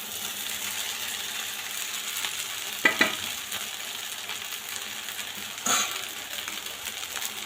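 Poha, flattened rice, sautéing in a pan for kande pohe, a steady soft sizzle with two brief clanks of a spoon against the pan, close and alone.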